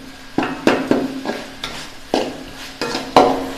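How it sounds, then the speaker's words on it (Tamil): Lengthwise-cut tomatoes sauté in a pan for an okra curry, stirred with sharp, close scraping strokes at an uneven rhythm over a light sizzle, with no voices. "இப்போ பார்த்தீங்களா, 2 நிமிஷத்தில் வதங்கிடுச்சு தக்காளி"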